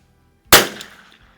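A single sharp, loud rifle shot from a CZ 452 rimfire during an ammunition test outdoors, with a quick decaying tail and then quiet.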